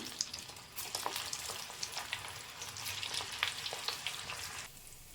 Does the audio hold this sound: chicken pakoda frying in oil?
yes